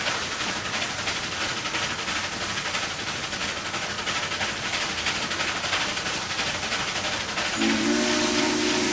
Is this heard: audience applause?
no